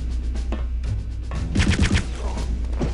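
Gunfire in the video game Return to Castle Wolfenstein, a loud, close burst of rapid shots in the middle with a few scattered single shots around it over a steady game background hum, no talk.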